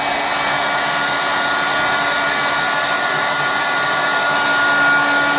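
A heat gun blasts hot air onto resin with a loud, steady, unbroken roar that holds at one level from start to finish with no talk.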